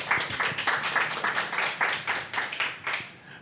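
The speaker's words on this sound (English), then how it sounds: "Round of applause, everybody. Round of applause." A small audience claps in quick, uneven bursts at the start of a live speaking show. The clapping is moderately loud and thins out toward the end.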